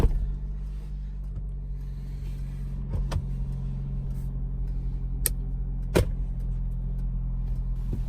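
A 2019 Lexus RX300 engine starts and settles into a steady idle inside a multi-story parking building, a low continuous hum with a few sharp clicks and knocks scattered over it, no voices.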